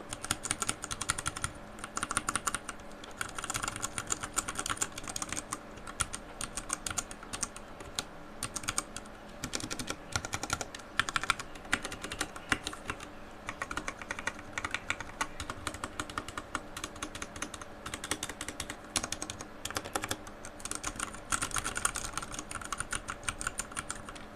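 Typing on an RK100 RK860 wireless hot-swap mechanical keyboard, 96% layout with numpad: a long, steady run of fast, crisp key clicks and clacks, close and fairly quiet, with no voices.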